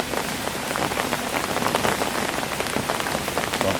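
Steady rain patters and peppers down on a surface in the woods, a dense, continuous hiss of drops lasting throughout with no voices.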